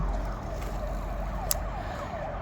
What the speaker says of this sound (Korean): 앰뷸런스